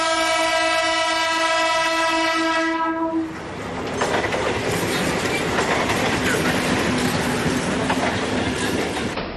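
A Mumbai local train sounds a loud, sustained horn for about three seconds, then rolls past close by with a continuous rumble and clattering wheels on the track.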